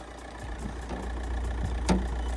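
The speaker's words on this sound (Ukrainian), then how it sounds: "двигун працює гарно" A Volkswagen Touran's engine idles with a low, steady rumble throughout, with a single sharp click near the end and no voices.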